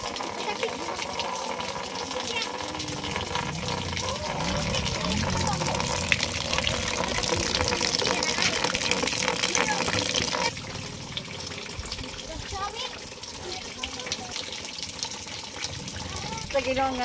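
Heavy rain pours steadily onto a leaking roof, a dense continuous wash of water that drops slightly in loudness partway through, with a voice speaking faintly beneath it.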